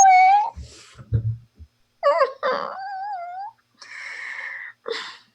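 A cat gives several drawn-out meows and wavering cries, close and clear, with short pauses and a few soft thumps between them indoors.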